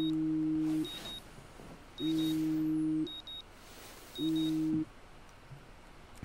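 Electronic phone alarm in the video game Life is Strange: three sustained two-tone beeps about two seconds apart, each lasting under a second, with quiet gaps between and faint background noise.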